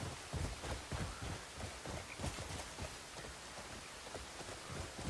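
Rain in the video game Crimson Desert: steady hiss of rainfall with patter on surfaces, mixed with a rhythmic clip-clop like hooves moving underneath, continuous and evenly loud.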